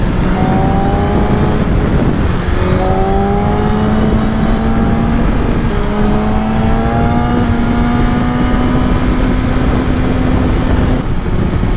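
A 2025 BMW M1000XR motorcycle revs hard through rising engine pitch in repeated pulls, loud and close, with each climb cutting off sharply before the next surge.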